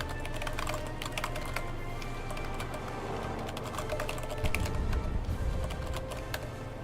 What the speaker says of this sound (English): We are going to type.